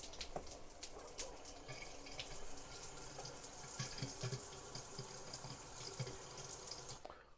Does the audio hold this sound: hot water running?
yes